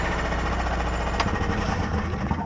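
A Tillotson 212E engine fitted to a Mokai boat runs steadily on a chilly day, a loud, continuous throbbing drone with a fast rhythmic pulse and no pauses.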